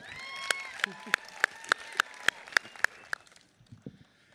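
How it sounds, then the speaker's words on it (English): An audience claps for a final presenter at a talk event with a run of about nine sharp, evenly spaced claps. Voices murmur beneath the claps before the clapping stops abruptly and the room goes quiet. "Let's hear one last bit of clap, clap for our last presenter, Michael Morgan."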